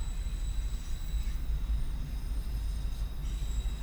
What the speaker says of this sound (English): I intended to bring my camcorder because there's usually a freight train